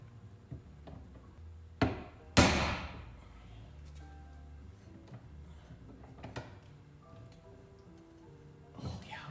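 Hammering on a part of a BMW E28 535i in a cramped space: a few sharp metallic strikes, one louder bang, then quieter clanks and knocks spread through a mostly still workshop.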